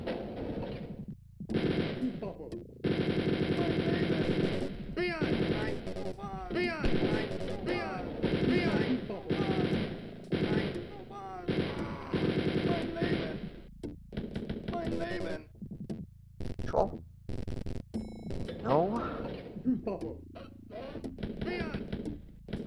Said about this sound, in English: So I'll just stand here and shoot them.